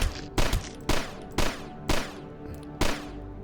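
A crossbow in the video game DUSK looses bolts in six sharp, evenly spaced shots, each a punchy crack with a short decaying tail, over a low ambient game background.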